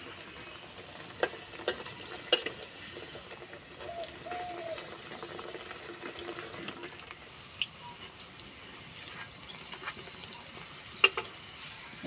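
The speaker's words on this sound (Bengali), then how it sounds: "এইভাবে উল্টে পাল্টে বেশ করে ভেজে নেব।" A snack fries gently in oil over low heat while being turned, with a faint soft sizzle punctuated by scattered clicks and scrapes, and birds calling faintly in the background.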